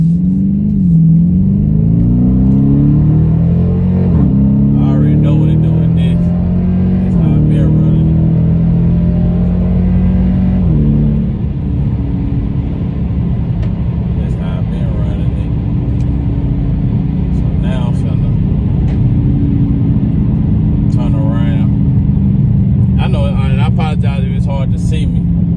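A Dodge Challenger or Charger pulls away hard in sport mode, its engine note climbing through several rising revs before settling into a loud, steady drone, with voices heard at times.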